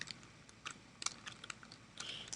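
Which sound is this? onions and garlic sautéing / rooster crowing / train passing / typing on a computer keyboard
typing on a computer keyboard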